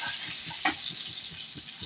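A pinch of turmeric drops into hot, spattering oil in a pan before Malabar spinach goes in. A soft continuous sizzle carries a sharp pop near the start and faint rhythmic stirring below.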